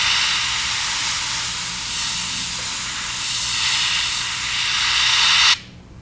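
Close, continuous hiss of an airbrush spray painting a fishing lure through a stencil, steady for several seconds before cutting off abruptly, with no talking.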